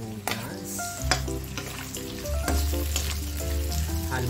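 Onion fries in a pan with a steady close sizzle, broken by several clinks and scrapes of a utensil stirring.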